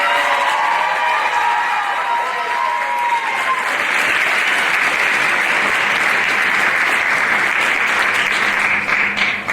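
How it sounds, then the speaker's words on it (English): A school pageant audience at the Mr Hoosac 2022 show gives a big round of applause and cheers for the master of ceremonies, loud sustained crowd clapping with whoops and voices early, swelling and holding steady. "If we could have a big round of applause."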